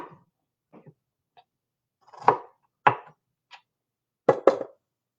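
A knife cuts vegetables such as carrots on a board for oven roasted potatoes and veggies, giving irregular, close chopping strikes, a few light taps and then sharper hits, some in quick pairs.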